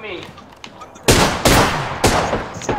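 Gunfire in the Apex Legends video game, several loud sharp bursts of shots arriving in quick succession after a quieter opening, with a voice audible in the background.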